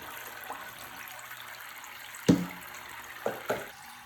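A budget frog and its water are tipped from a container into a tank: a sudden splash and pour, then two smaller splashy plops a second later, with quiet room tone before and after.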